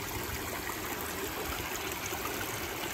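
Water pouring steadily over a backyard negative-edge waterfall into river rock, a constant close rushing and trickling with no pauses or voices.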